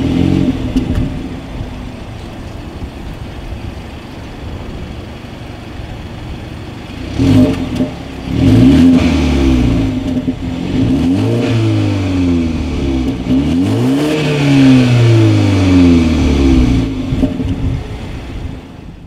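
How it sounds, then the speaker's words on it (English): A 2019 BMW 330i's exhaust idles with a low rumble, then the engine revs up several times, each rev climbing and falling back, loud and close. "As always, here is that exhaust clip."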